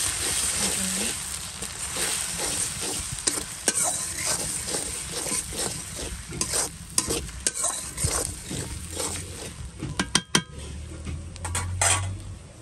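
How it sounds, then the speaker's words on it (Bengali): Ginger and garlic sizzle and fry steadily in a pan for a curry, with frequent scraping stirs of a utensil against the metal and occasional clinks, close and continuous with no talking. "এরপর হচ্ছে একটু আদা রসুন দিয়ে দিচ্ছি। এটাকে ভালো করে ভেজে নিলে হচ্ছে তরকারিটা স্বাদ অন্যরকম হয়।"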